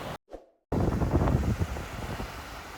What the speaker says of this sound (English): the afternoon weather really closing in and the wind driving us inside the camper